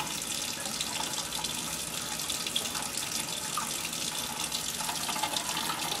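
Tap water runs steadily into a sink at home, a continuous broadband hiss and splash at close range with no talk over it.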